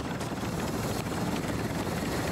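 A drone in the video game Warzone hums as a steady, dense rotor drone that fills the whole stretch at constant loudness, with no talk over it.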